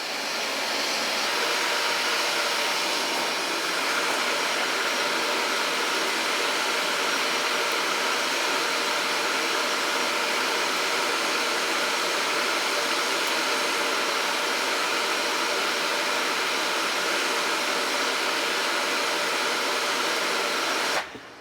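A forge heats a long Rambo-style knife blade before quenching. Its steady, loud, hissing roar runs without a break until it cuts off abruptly at the end.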